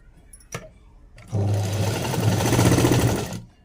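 A sewing machine stitches waste cloth in one steady, loud run after a brief quiet start with a couple of small knocks.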